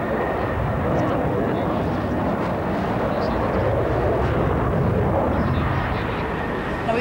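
An aircraft flies aerobatics at the 1992 Farnborough airshow, a loud continuous engine roar that holds steady for the whole stretch with no voices over it.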